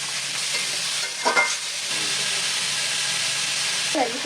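Continuous hissing sizzle of papaya pieces frying in oil, with a few scraping stirs of a spatula against the pan and a brief faint voice near the end.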